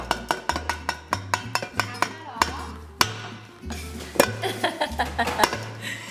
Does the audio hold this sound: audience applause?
no